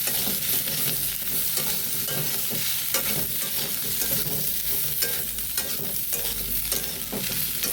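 Vegetarian soybean and potato curry with ginger frying in oil in a pan, stirred steadily: a continuous close sizzle with repeated scraping strokes, no talking.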